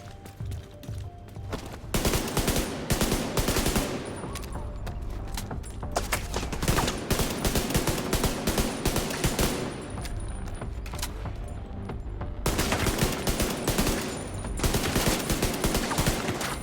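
Bursts of gunfire from the video game The Division 2 on PC, loud and close, with near-continuous firefights broken by short lulls around the two- and twelve-second marks.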